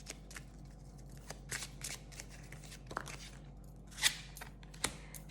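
A tarot oracle deck is shuffled and a card drawn: soft papery riffling and sliding runs through the clip, with a couple of sharper card snaps near the end, close and fairly quiet.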